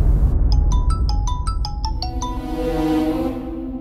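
A mobile phone ringtone plays a bright repeating melody of short chiming notes, loud and close, ending in a sustained tone that fades out, with no talking over it.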